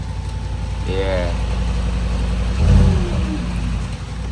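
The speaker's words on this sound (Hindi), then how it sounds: "गाड़ी हो चुकी है कोल्ड स्टार्ट" A Mercedes G-Wagon engine runs after a cold start, a low steady idle that swells into a short rev partway through, heard close with some voices over it.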